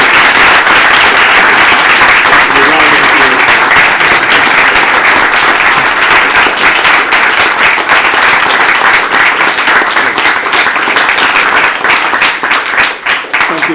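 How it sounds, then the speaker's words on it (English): A large audience gives a long, loud, sustained round of applause after an interview, dense clapping holding steady for over ten seconds before trailing off at the end. "if we could just have a round of applause for Subhuti"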